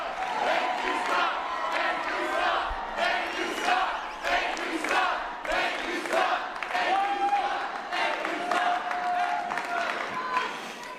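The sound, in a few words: crowd cheering for Scott Presler at conservative youth event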